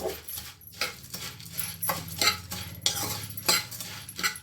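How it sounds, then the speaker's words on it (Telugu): Spicy puffed rice snack is tossed and mixed in a bowl with a spoon, giving irregular close clinks and dry rustling scrapes in quick bursts, with no voices. "ఇప్పుడు దీన్ని ఇలా బాగా మిక్స్ చేయాలండి"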